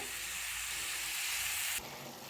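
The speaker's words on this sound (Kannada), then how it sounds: "ಇಷ್ಟನ್ನು ಹಾಕಿ ಚೆನ್ನಾಗಿ ರೋಸ್ಟ್ ಮಾಡಿ" Garam masala and other spices roast in a hot pan for a sprouts gravy, giving a steady, close, hissing sizzle that briefly softens and shifts as the pan is stirred near the end.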